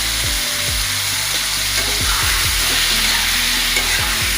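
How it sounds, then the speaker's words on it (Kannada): Eggs frying in hot oil for an egg curry, a loud steady sizzle and crackle running throughout, punctuated by repeated scraping strokes of a utensil stirring in the pan. "ಸ್ವಲ್ಪ ಲೈಟಾಗಿ ಫ್ರೈ ಆಗಲಿ."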